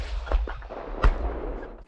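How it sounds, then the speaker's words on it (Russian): Two sharp, booming bangs from an AGS grenade launcher, the second louder, over a low rumbling background. "Выстрел!"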